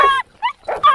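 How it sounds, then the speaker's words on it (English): Dogs bark and yip at each other, close and loud, in a few sharp bursts with short gaps between them. "They just bark at each other."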